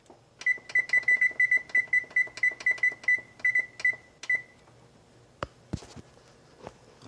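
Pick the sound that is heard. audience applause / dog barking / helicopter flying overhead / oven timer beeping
oven timer beeping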